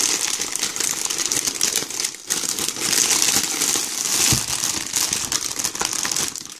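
Fancy wrapping paper crinkling and rustling up close as a Disney Princess super chocolate egg is unwrapped, with continuous crackling handling noise and a short pause midway.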